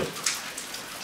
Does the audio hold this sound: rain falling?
yes